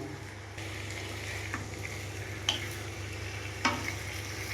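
Potatoes frying in hot spiced oil give a steady, fairly quiet sizzle up close, with a few sharp clicks standing out from the constant hiss.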